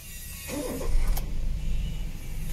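A car whose check engine fault has just been repaired, with the air filter housing refitted, cranks briefly and then catches, settling into a steady, fairly loud idle nearby.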